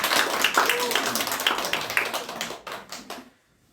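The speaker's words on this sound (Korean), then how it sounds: "박수 한번 쳐주십시오." A small church congregation claps, a brief scattered patter of hands that thins out and stops abruptly near the end.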